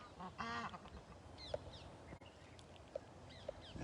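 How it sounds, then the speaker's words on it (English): Ducks honking and quacking together with another bird calling nearby, a loud burst of layered calls early on followed by scattered squawks and short chirps over a steady noisy outdoor background. "I think they're in the territory of this other bird that's screaming around there."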